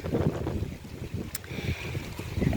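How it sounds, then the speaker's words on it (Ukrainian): Gusty wind buffets the microphone in uneven rumbling bursts, loud and close throughout. "вітер дуже сильний"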